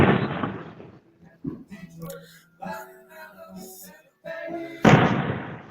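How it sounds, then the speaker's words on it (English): Fireworks burst outside on the Fourth of July, several loud booms with the strongest blasts at the start and end, separated by people talking. "The fireworks looking good."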